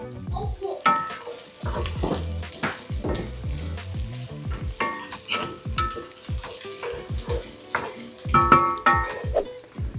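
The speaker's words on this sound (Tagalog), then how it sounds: "Onion and garlic. Sauté nyo lang siya maigi." Onion and garlic sauté in a pan for a kare-kare sauce, with a close, steady sizzle and repeated scraping stir strokes and clinks of the utensil against the pan.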